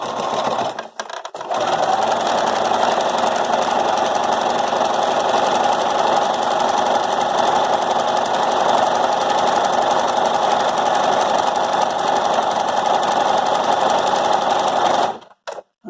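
A sewing machine runs steadily and loudly, back stitching to reinforce a seam on a fabric face mask, with a continuous whir lasting most of the clip before stopping abruptly near the end.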